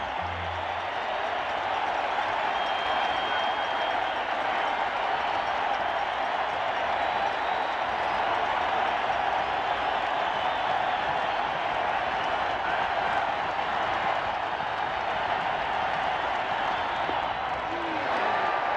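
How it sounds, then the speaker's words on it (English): Baseball stadium crowd at Game 5 of the 1986 ALCS, Red Sox versus Angels, roaring in a dense, continuous wall of cheering that holds loud and steady from start to finish. "The crowd rising as one as Downing gets ready to stand in."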